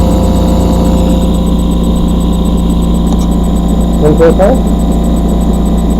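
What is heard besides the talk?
Bedini pulse motor running under load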